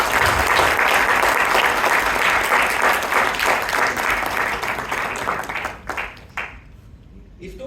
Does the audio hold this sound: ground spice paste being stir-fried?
no